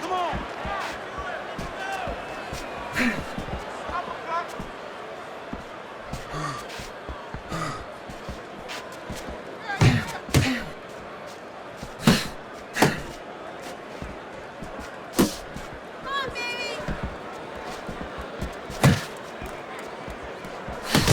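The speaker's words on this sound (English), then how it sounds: "Well-placed counter by Chico" Punches land in a Fight Night Champion boxing video game as sharp thuds spread at irregular moments over a steady crowd murmur, with a commentator talking across much of it.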